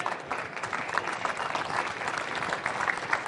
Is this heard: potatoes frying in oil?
no